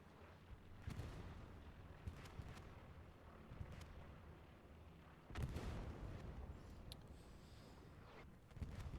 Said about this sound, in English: Artillery still coming down for both sides.